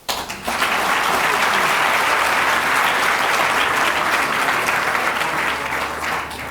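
Sustained applause from a large audience at a Black Business Council address, dense and steady for several seconds, with no talk over it.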